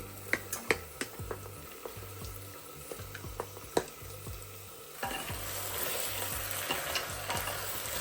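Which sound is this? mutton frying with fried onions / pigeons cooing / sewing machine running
mutton frying with fried onions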